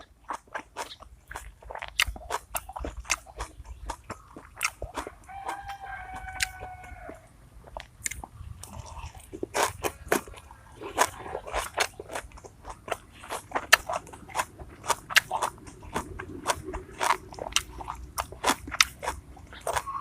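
Thai fried egg salad (yam khai dao) being eaten, with close, steady crunchy bites and chewing throughout, and a rooster crowing faintly in the background partway through.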